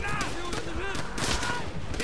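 Rapid gunfire from the World War II shooter game Call of Duty: World at War, with several sharp shots and bursts packed into two seconds over a busy, loud game soundscape.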